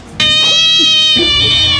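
A cat lets out a close, loud, drawn-out meow, a strained and wavering cry that continues for nearly two seconds with no talk over it.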